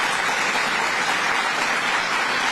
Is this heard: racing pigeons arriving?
no